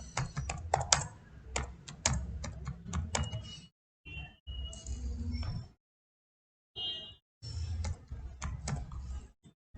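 Fast typing on a computer keyboard enters bank account details, with bursts of close, crisp key clicks broken by short pauses and silent gaps.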